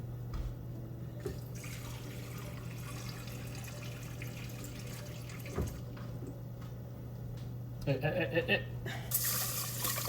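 Water pours into a pot of rice for cooking, a soft steady trickle with a low hum underneath and a brief louder splash near the end, with no talking.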